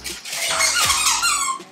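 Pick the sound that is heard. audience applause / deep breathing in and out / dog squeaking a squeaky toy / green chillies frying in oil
dog squeaking a squeaky toy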